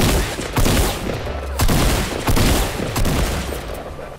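Gunfire in the video game Fortnite: several loud close bursts of shots with sharp onsets, separated by short gaps, over a busy game background with no talking.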